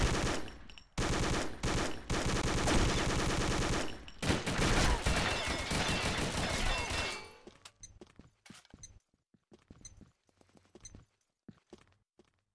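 A Minimi machine gun fires in the shooter game Combat Arms with loud, dense, sustained automatic bursts. The bursts break off, then sparse single shots, thuds and footsteps follow.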